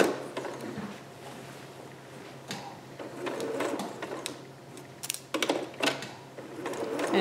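A sewing machine stitches through a tricky, bunching dress fabric, running in steady mechanical bursts with brief pauses and a few sharper clicks as the foot is lifted and the work shifted.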